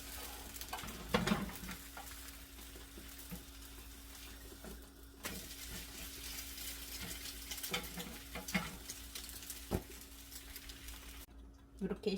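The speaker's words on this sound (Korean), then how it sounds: "이렇게 흰자는 조금 얇게 착 펴지니까 부치기가 조금 편안한데 노란자는 조금 두껍게 되네요." Thin sheets of egg white and yolk fry in a pan for rice cake soup garnish, giving a soft, continuous sizzle with small stirring and scraping touches. A voice talks over the quiet cooking.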